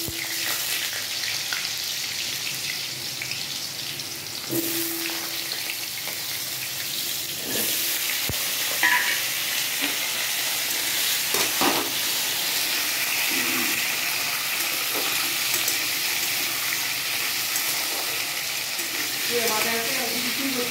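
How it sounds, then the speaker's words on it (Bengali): Small diced potatoes frying in oil in a wok give a continuous close hissing sizzle, with occasional clinks and stirring scrapes of a utensil throughout, no one speaking. "এবার কড়াইতে তেল দিয়েছি। এবার আলুগুলো একটু হালকা বাদামি রং করে ভেজে তুলব।"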